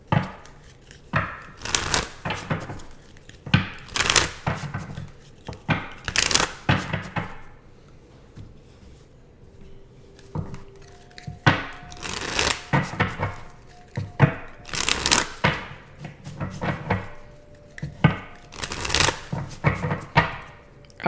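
Tarot cards are shuffled, slid and spread across a table in repeated close, crisp riffles and rustles, with a few quiet pauses and faint talk in between.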